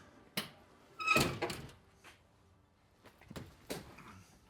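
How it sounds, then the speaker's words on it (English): A vehicle tailgate pops open, with a sharp latch click followed by a louder clunk and rattle, then a few lighter knocks and clicks, close by. "and then we can pop open my tailgate."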